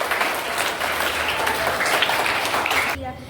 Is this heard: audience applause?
yes